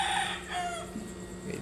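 A rooster crows among a flock of about ninety fighting cocks, the call rising and falling in a drawn-out, strained cry with clucking around it. No one speaks.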